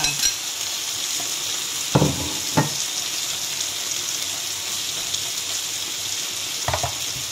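Onion already cooked sizzles steadily in a pan for chicken steak with marinated sauce, a constant frying hiss broken by a few sharp stirring knocks near the start and end.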